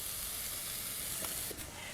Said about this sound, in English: We want to let that saute on a medium heat.